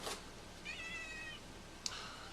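A pet cat named Zelda lets out a single drawn-out meow, fairly faint and indoors, with a soft click near the end and a quiet room around it.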